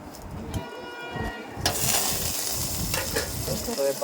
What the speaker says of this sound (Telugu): మిరపకాయలు మగ్గిన తర్వాత కరివేపాకు, తాలింపు గింజలు వేస్తుంది